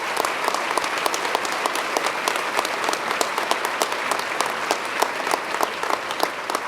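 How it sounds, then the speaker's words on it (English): Steady, loud applause fills a government budget presentation hall, many hands clapping continuously and evenly throughout without a voice on top. "Let's give them a round of applause"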